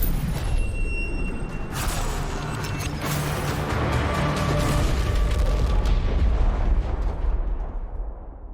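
A firecracker goes off in Rainbow Six Siege, giving a loud explosive burst with crackling pops and a booming tail amid game combat noise.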